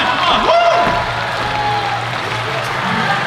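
An audience at a school engineering and science day claps and cheers in a steady burst, with a few whoops and a voice rising over the crowd.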